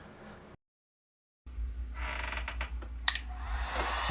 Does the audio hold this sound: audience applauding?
no